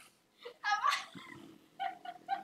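A cat meows and caterwauls close by in a couple of short bursts, followed by a few quieter chirping calls, with faint human voices in the background.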